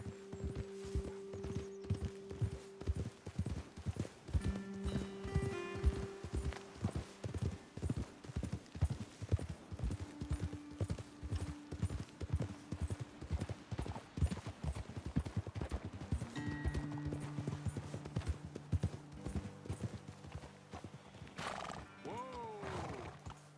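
Steady, rhythmic clip-clop of horse hooves at an even trot in Red Dead Redemption 2, continuing throughout with soft melodic tones and a brief whinny near the end.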